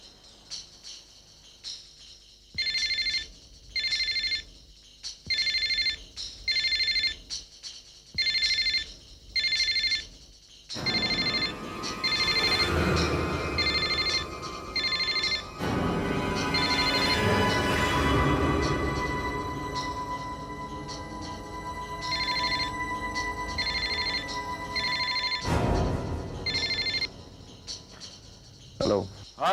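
A telephone rings repeatedly in regular bursts, then louder overlapping sound and noise fill the middle before the ringing pattern returns.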